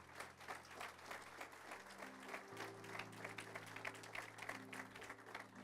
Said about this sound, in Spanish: No aplauda por la mitad, se aplauda completo.